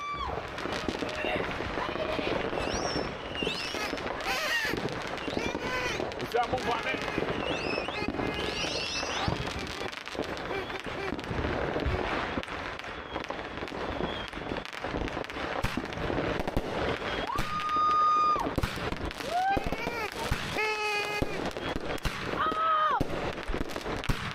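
Fireworks on a driveway, including a misfire, with dense rapid crackling bursts and sharp pops at close range, firing continuously with a few whistling rises, while people shout and talk over the noise.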